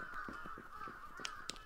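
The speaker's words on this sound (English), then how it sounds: "A lot of birds there." Honking, goose-like bird calls from a horror video game set among many birds, repeating in short bursts over a steady droning ambience, with a couple of sharper cries near the end.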